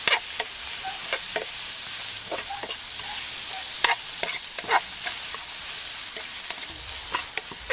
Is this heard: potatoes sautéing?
yes